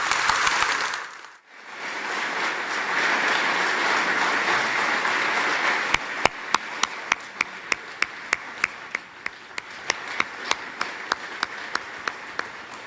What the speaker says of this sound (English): So applause for Jeremy Corbyn's speech in Coventry.